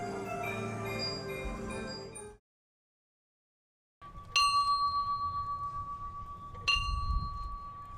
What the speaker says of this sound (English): A bell solemnly tolled as Vietnam veteran Doug Howell led a moment of silence at Detroit's Veterans Day Parade